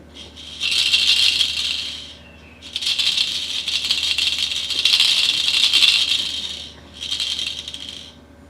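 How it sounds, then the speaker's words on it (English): A baby rattle shaken in three bursts of crisp, bright clattering, with short pauses between them; close and fairly loud, no voices. "You want to shake, shake, shake?"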